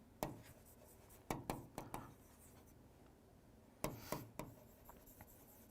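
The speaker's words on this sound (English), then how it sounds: "I will write it down." Chalk or marker strokes on a classroom board during a physics lesson, a series of sharp taps and scratchy strokes in two bursts with quiet gaps, close and clear with no talking.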